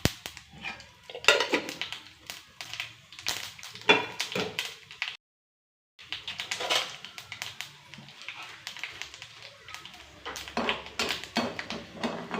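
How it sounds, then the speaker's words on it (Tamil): Mustard seeds and urad dal crackle and pop in hot oil while tempering for rava adai, sharp irregular spatters and snaps in quick bursts, broken by a brief silence midway, close and fairly loud. "கடுகு உளுந்தம் பருப்பு வெங்காயம் தாளிச்சுக்குவோம். நல்லா வெடிச்சிருச்சு."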